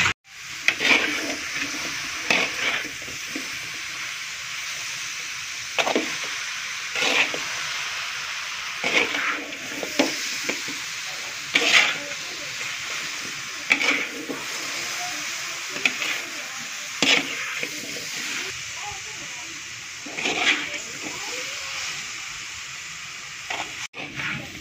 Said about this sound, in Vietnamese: Lúc này là mình xào giống như là đậu xào đậu đường vậy đó